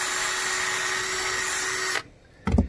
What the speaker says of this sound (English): Let's drill the center.